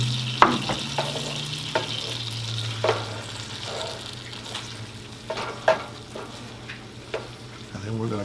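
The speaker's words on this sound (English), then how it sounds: "we're going to add in our tomato now and just kind of combine that in" Tomato being stirred into sautéed onions in a hot pan, with a steady sizzle beneath repeated scraping strokes of a utensil at an irregular rhythm and a low hum in the background.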